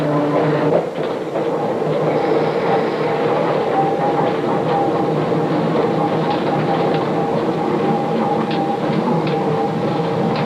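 North Shore Line electric trains in downtown Waukegan in 1945 rumble steadily with clattering wheels and rattling cars, a continuous loud rolling sound throughout.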